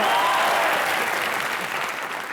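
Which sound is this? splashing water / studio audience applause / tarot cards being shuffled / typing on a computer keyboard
studio audience applause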